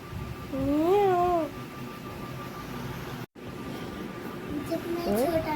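A cat gives one clear, close meow with a rising and falling pitch, followed by a quiet room hiss, a brief dropout and a few faint higher squeaks near the end.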